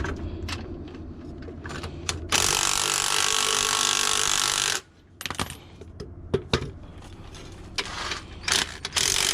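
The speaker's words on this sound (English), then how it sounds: "when I do this, it compresses the spring, and then I'm able to take off the top mount safely." Mechanical spring compressor tightening a coilover spring on a Mk4 VW Golf GTI strut, with repeated metallic ratcheting clicks and clanks, a sustained harsh grinding burst in the middle, then scattered knocks and clicks; close and fairly quiet.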